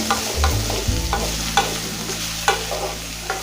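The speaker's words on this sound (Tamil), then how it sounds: "வெண்டைக்காயோட வாவளை தன்மை போகிறதுக்கு நம்ம இதை நல்லா வதக்கிக்கணும்" Okra sautés in an oiled pan, sizzling steadily up close while a spatula stirs it, scraping and tapping against the metal every second or so.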